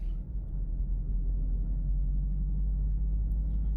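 A Toyota GR86 drives at steady speed on rough roads, giving a continuous low engine drone and road rumble that stays even and close throughout, with no talking.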